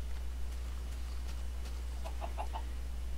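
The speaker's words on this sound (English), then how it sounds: "Get out of the water, chickens." Chickens clucking in Minecraft, a few short clucks near the end over a steady low hum, quiet and alone with no talk.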